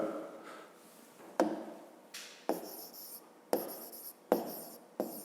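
A pen writes an answer in a school notebook during a fifth-grade maths exercise, giving soft scratchy strokes and several sharper taps as words are formed, close by, with no talk over it.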